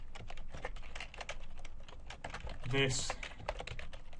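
Rapid clicking keystrokes on a computer keyboard while a line of code is entered, close and steady, with someone speaking briefly over the typing.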